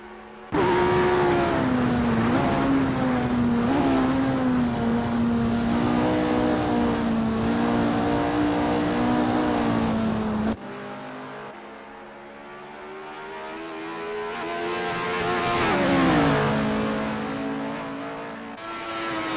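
A 1967-style Cooper T81B Grand Prix race car engine in a sim racing practice session, loud and close, a sustained raspy drone that holds steady, then drops off sharply and climbs again through rising and falling revs.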